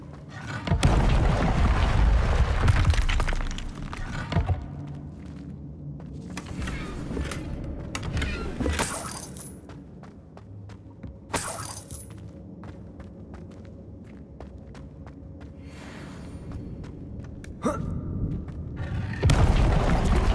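A fire spell cast in the game Hogwarts Legacy, loud booming whooshes and bursts of flame recurring over a rumbling game soundscape with footstep-like thuds.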